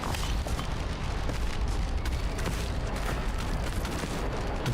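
Cannons fire in a video game egg-building level, a dense, continuous barrage of booming blasts and crackling impacts that stays loud and steady throughout.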